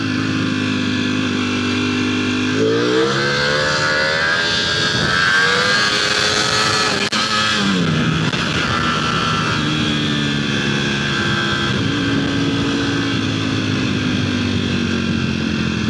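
A small red motorcycle engine running, a loud close droning whine that rises in pitch as it revs up through gears, dips and climbs again, holding a steady buzzing tone throughout.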